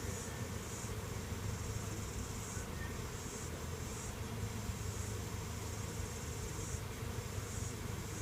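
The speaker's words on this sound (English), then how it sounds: "Man, that's a lot of bees." A dense, continuous buzz of many bees swarming around a hive nearby, steady and fairly faint, with no voices.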